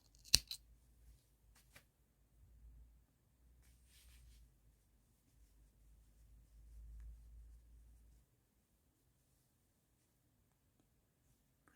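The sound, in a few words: scissors cutting yarn while crocheting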